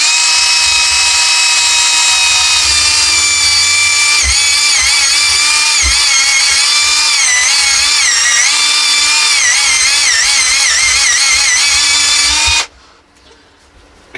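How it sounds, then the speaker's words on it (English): A loud chainsaw cutting Scots pine bonsai wood whines steadily at high revs for several seconds, its pitch wavering as it cuts, then cuts off abruptly. "So I'm having a little chainsaw job"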